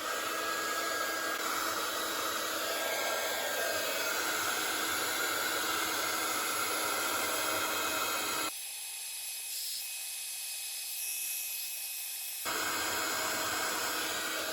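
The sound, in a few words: heat tool blowing hot air for heat embossing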